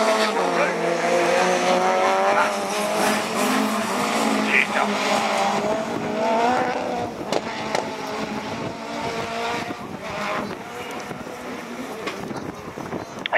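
Division 4 rallycross cars racing at Lessay, including a Clio 3, with several engines howling and revving hard along with tire scrabble, while a commentator talks excitedly over the noise throughout.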